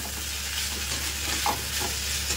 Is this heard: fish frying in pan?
yes